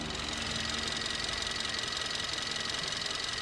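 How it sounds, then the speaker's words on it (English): A used car's engine idles steadily with the microphone held close in the engine bay, giving a constant, even hum with faint rapid ticking and no voices. "I'm just going to put the mic closer to the engine so you can hear how the engine sounds."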